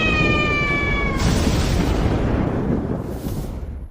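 A pink leopard cat monster from a fantasy video game gives a brief high, tonal meow-like cry at the start, then a loud rumbling blast like thunder or an explosion fills the rest of the clip.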